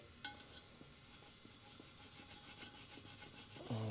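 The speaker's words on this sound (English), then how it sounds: "So I'm just cleaning off the residue from the silicone for when I go ahead and reseal." A tool scrapes silicone residue off a three-piece forged wheel from a Porsche 911 Turbo in quiet, repeated rubbing strokes, close to the microphone, with a brief clunk at the end.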